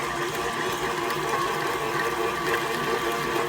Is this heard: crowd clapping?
no